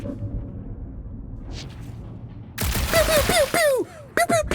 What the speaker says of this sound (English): Just making sure my guns work.